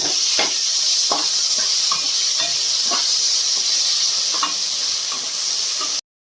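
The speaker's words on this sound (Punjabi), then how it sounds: "ਹੁਣ ਮਿਰਚਾਂ ਪਾਵਾਂਗੇ ਹਰੀਆਂ ਤੇ ਇੱਕ ਟਮਾਟਰ ਇਹਨਾਂ ਨੂੰ ਭੁੰਨ ਲਾਂਗੇ ਚੰਗੀ ਤਰ੍ਹਾਂ" Green chilies and a tomato sizzle in a pan with browned onions, a steady loud hiss broken by a few clicks and scrapes of stirring, which stops abruptly near the end.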